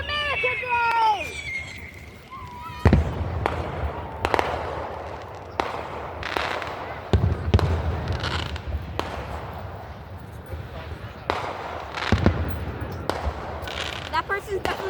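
Fourth of July fireworks go off nearby in a rapid string of sharp, loud bangs and crackles spread across the stretch, with people talking between the blasts and a whistling rise at the start.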